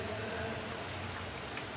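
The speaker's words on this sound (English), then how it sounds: "Not real heavy, but it's still raining." Steady light rain falling, a soft continuous patter with no voices, even and close throughout.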